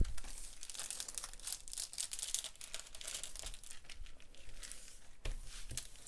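A soft velvet 40x50 cm diamond painting canvas is folded back, making continuous close crinkling and rustling with brief scraping bursts and a sharper crackle near the end. No one speaks.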